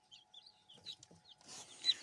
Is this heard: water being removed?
no